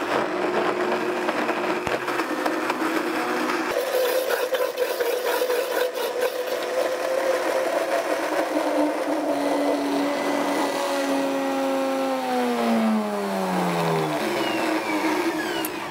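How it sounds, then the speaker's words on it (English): A blender mixing basil fudge runs loudly and continuously, its motor whine dropping in pitch as the contents thicken, then rising again near the end. "you'll just want to mix that up really good in the blender"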